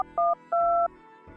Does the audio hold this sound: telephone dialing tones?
yes